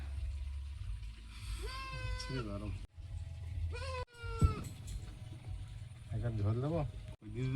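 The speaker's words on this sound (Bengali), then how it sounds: "ছাগল ডাকছে" A goat, apparently a kid alone and separated from its mother, bleats at a rural Bengali home, with several wavering cries in separate bursts over a steady background rumble.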